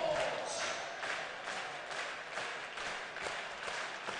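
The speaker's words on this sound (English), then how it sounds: "Crowd is raucous and ready." Crowd at a girls high school basketball game in a gym cheers and applauds in a dense, continuous roar of clapping and shouting throughout.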